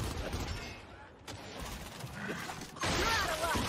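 Gunfire in the video game Gears of War 5, with bursts of rifle fire and impacts that swell louder toward the end, heard under players' voice chat.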